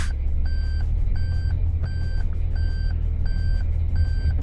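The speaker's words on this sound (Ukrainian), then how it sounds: "коли ви їдете з відчиненим багажником, у вас висвічується помилка та зумер лунає" A steady electronic warning beep from a Toyota RAV4 XA50 open-tailgate buzzer, sounding while driving with the tailgate open, repeats in evenly spaced pulses, about six times, over a constant low engine hum.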